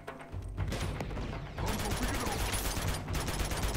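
Rapid gunfire rattles through a firefight in Uncharted 2, dense bursts of shots that pause briefly and then resume, with faint voices mixed underneath.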